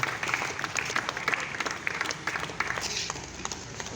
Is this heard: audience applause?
yes